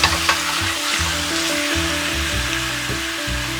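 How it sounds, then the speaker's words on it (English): Pork adobo sizzles and fries in a hot pan while being stirred, a constant loud crackle with rhythmic scraping and shuffling strokes of the utensil, close up with no voices. "so now you have to stir it"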